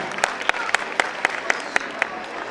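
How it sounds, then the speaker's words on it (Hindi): A short burst of applause, steady clapping from a group with a few sharper claps standing out, fairly faint and even. "एक बार चाहूंगा कि पांचों भामाशाहों के लिए जबरदस्त ताली हो जाए सर।"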